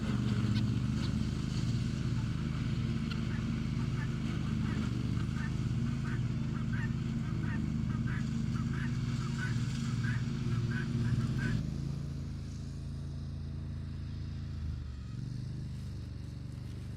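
Guinea fowl calling outdoors at a country garden, repeated harsh honking cries in a steady run over a low engine-like drone, then fading as the birds move off.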